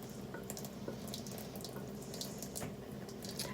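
Eco dye prints made with beet juice and begonias rinsed under a running tap, steady faucet water splashing and streaming continuously, close and fairly loud throughout with no talking.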